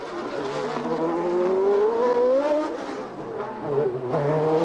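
Formula One race cars on Goodyear and qualifying Pirelli tires at Monaco's La Rascasse corner, with a loud high engine whine rising and falling through the corner, revs climbing then dropping back, and faint tire noise, no talk.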